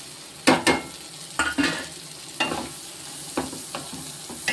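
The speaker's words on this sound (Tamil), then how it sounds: "இப்போ வந்து நம்ம சோளக்கருதை போட்டு இதில் வறுப்போம்" Sweet corn kernels fry in melted butter in a pan under a low sizzle. Spatula strokes scrape and toss the kernels in distinct bursts about once a second, with no voices.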